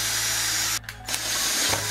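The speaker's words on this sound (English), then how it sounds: "So let's drill that one out" Power drill boring out a bolt hole in the body of a Mitsubishi Evo 9 during a battery relocation, a steady loud whine that briefly cuts out near the middle, then spins up again.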